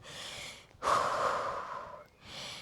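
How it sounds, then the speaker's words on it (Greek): A person breathes heavily after a home workout with resistance band and dumbbells, kneeling to recover: a long, loud breath with a brief pause, then another breath begins, close and alone. "Μερικές ανάσες να πέσουν παλμοί."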